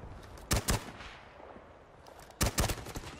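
Gunfire in the video game Rising Storm 2 comes in two loud clusters of sharp shots, each a quick burst of two or three reports, separated by a stretch of low battlefield ambience.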